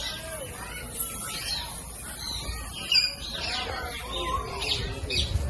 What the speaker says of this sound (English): There is a red parrot.